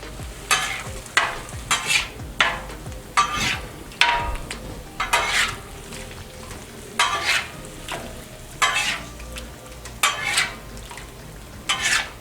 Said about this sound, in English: Spread out your shrimp. Let's go ahead and give it a flip.